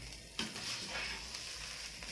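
Rice frying in a pan for a kofta and potato tray dish, a steady quiet sizzle with a brief scrape of stirring near the start and no talking.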